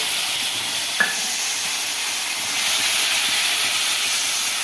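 Grated tomato hitting hot oil with bay leaves and whole cumin in a Bangladeshi-style dish, a steady broad hissing sizzle with a brief clink near the start, holding loud and even throughout.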